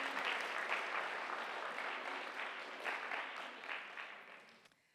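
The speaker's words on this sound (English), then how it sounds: "Another round of applause for the beautiful Kirtana." An audience at an arangetram performance applauds with sustained clapping that slowly tapers off, heard at moderate distance without talk.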